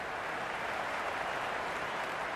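Large crowd at a Twenty20 cricket match in Sydney, a steady, dense roar of cheering and applause filling the whole moment without a break, with no distinct voices standing out.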